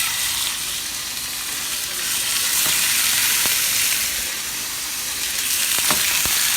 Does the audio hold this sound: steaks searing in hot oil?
yes